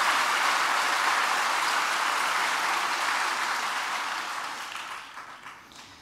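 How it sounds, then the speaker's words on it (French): An audience at a lecture on extraneuronal consciousness applauds, a dense, even wash of many hands clapping that holds steady and then gradually thins and fades out toward the end. "On peut l'applaudir, effectivement."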